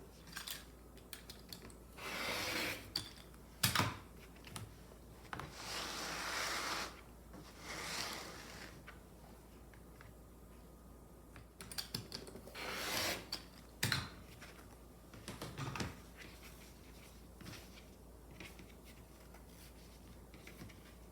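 A rotary cutter slices through three stacked layers of quilting fabric in several separate passes, each a short, close scraping stroke, with quiet handling sounds between cuts.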